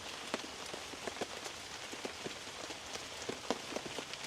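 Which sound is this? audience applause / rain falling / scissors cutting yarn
rain falling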